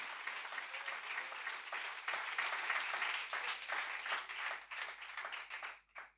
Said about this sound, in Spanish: Dale fuerte ese aplauso al Señor Jesucristo.